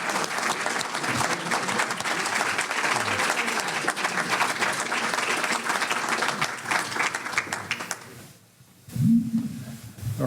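Audience applause for the two candidates at a congressional district forum, a steady wash of clapping from a full room lasting about eight seconds before fading, followed by a brief voice.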